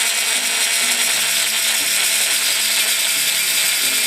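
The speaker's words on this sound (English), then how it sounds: "So I figured I'd drill through here." A drill drives screws into a mount built from bicycle parts, giving a loud, continuous mechanical whine with a ratcheting, grinding edge that holds steady throughout.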